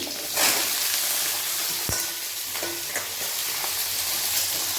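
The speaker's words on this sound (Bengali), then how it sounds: "আলু দিচ্ছি, আলুটা দিয়ে দিই আমি।" Potatoes fry in hot oil in a kadai, giving a loud continuous sizzle with a few sharp clinks of a spoon against the pan. No one speaks.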